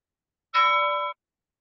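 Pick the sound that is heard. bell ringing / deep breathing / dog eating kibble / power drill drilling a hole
bell ringing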